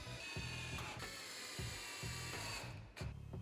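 A power driver runs screws into a wooden range hood cover assembly, sounding in short whirring bursts with brief pauses between them, close and fairly faint with no talk.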